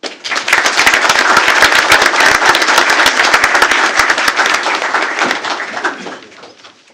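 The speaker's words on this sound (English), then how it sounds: "Please give these kids a round of applause" School board meeting audience applauding students, a loud, dense burst of many hands clapping that runs steadily for several seconds before fading away at the end.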